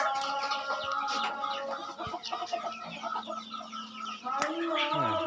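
Flock of pigeons gathering on a house rooftop enclosed with netting, giving a steady stream of close cooing and clucking calls with a brief louder flurry near the end.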